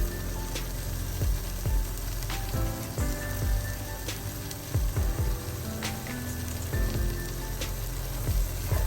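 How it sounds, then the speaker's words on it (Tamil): Onions and tomatoes sauté in a pan for fish biryani, giving a continuous close sizzle with scattered pops and crackles and occasional utensil clinks, no talking. "இந்த வெங்காயம் தக்காளி எல்லாம் நல்லா வதங்கிட்டுது."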